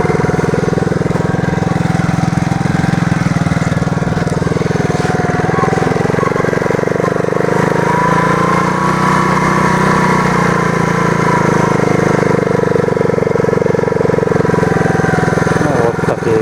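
A moped engine drones steadily while riding along a taiga forest track in the Komi region during mushroom picking, a loud continuous buzzing hum close to the rider, with some speech over it.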